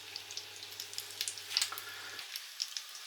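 Corned beef hash cakes frying in a pan, a quiet close sizzle with irregular soft pops and crackles, while a low background hum cuts out partway through.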